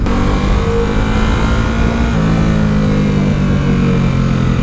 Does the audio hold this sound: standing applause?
no